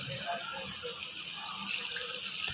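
Hot water pours steadily into a pan of brinjal and potato curry with raw mango, a continuous soft splashing rush that runs close and fairly quiet throughout.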